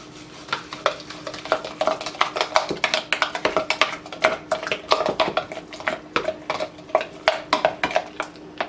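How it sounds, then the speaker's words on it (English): A spoon stirs homemade ranch dressing dip in a bowl, clinking and scraping against its sides in a quick, steady rhythm of close, sharp taps for several seconds, with no voices. "So I'm going to go ahead and mix this up and see what we got here."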